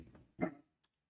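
A dog barking at something outside, giving one short, fairly quiet bark indoors after some low muffled noise, then silence.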